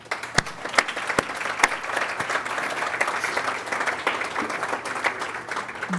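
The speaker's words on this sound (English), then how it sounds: "So let's give everyone a round of applause" A gala audience gives a loud, sustained round of applause, dense clapping from many hands with a few sharp nearby claps, filling the room with no talk over it.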